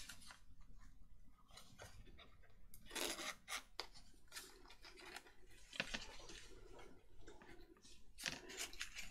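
Material for a folio journal is being cut, giving steady scraping and rasping strokes close by. The sound is faint and continuous, with a few louder bursts partway through.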